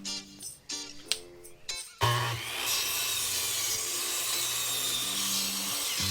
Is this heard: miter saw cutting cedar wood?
yes